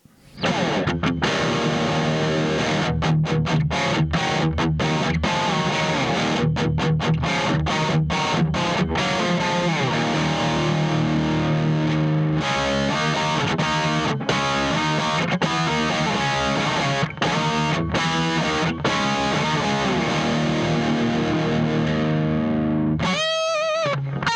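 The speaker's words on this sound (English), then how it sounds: "We're on the bridge pickup with a lot of distortion. Can a Telecaster handle it?" An electric Telecaster guitar on its bridge pickup is played through heavy distortion, with thick, buzzing chords and riffs ringing continuously for about twenty seconds before cutting off into a brief noisy burst.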